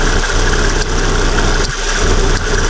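A Proton Persona engine idles loudly and roughly up close, a steady rumble broken by uneven knocking and a few slight stumbles, with a worn tensioner bearing and fan belt.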